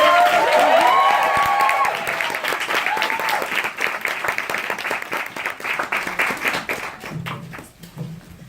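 A book launch audience breaks into sustained applause to welcome the speaker. The clapping starts loud and dense, then thins out and tapers off toward the end, with a voice briefly heard.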